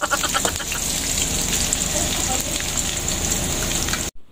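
Garlic, then onion, sizzling in hot oil in a pan while stirred, a dense steady crackle and hiss that runs loud and unbroken before stopping abruptly.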